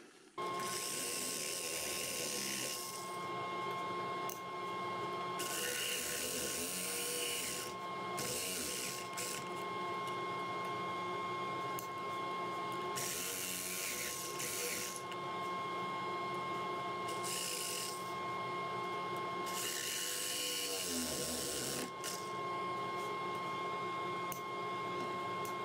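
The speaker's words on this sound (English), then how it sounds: "And I'll probably just use this Typhoon bit as well." Rotary Typhoon carving bit whirring steadily against a maple and soapstone turning, a continuous high-pitched grinding drone broken by brief pauses and bursts of cutting as the tool works the piece up close.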